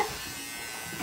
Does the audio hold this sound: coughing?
no